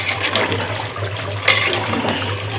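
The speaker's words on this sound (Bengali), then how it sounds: "দিয়ে দিলাম পানি" Water poured into a pot of chicken curry with potatoes and coconut, cooked outdoors in a village kitchen; a steady splashing pour runs throughout over a low hum, with one brief louder gush midway.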